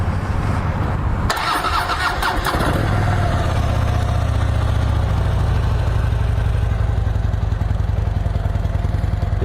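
A 2012 Harley-Davidson Switchback FLD motorcycle with factory 2-into-1 exhaust cranks over briefly, then catches and settles into a steady, loud, low-pitched idle that rumbles on evenly to the end.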